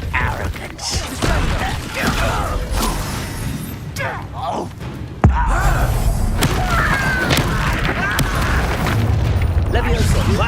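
Confringo blasting spells explode repeatedly during combat in the Hogwarts Legacy video game, loud booming bursts with a sharp blast near the middle, mixed with battle noise and spoken voices.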